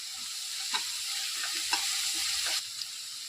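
Chicken curry base with onions and salt sautéing in a pan, a steady hiss of frying with three or four light spoon clicks as it is stirred.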